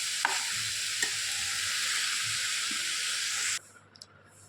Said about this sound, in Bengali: তো উল্টে পাল্টে ভালো করে একটু ভেজে নিচ্ছি।